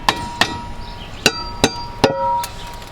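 Hammer blows strike stuck metal parts in six sharp, unevenly spaced impacts, each loud and close with a brief ringing tail, and no talking in between.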